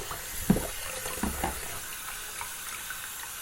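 Water runs steadily from a bathroom tap into a sink before shaving, a continuous close splashing stream with a few brief knocks early on, no talking.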